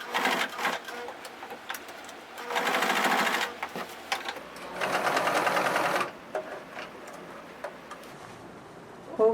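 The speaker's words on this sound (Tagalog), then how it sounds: "since this is a curved area of the garment, we have to be slow in sewing this together" Sewing machine stitching a curved neckline facing on a garment, running in bursts of fast rhythmic stitching separated by short pauses and lighter handling noises, close and clear with no talk.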